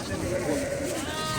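Sheep bleat close by at a livestock market, producing a wavering, sustained cry over the crowded chatter and general bustle of the bazaar.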